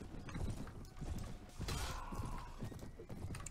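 Horse hooves clatter in the video game Mount & Blade Prophecy of Pendor, a steady run of galloping clip-clops close by, layered over busy battle noise.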